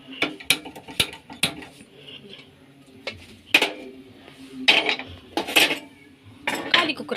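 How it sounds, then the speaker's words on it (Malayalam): An empty metal pressure cooker is set on a stove, with a series of sharp metallic clanks and clatters, some close and loud, others light, scattered irregularly over several seconds in a kitchen. "കാലി കുക്കർ ചൂടാക്കാൻ വെച്ചു."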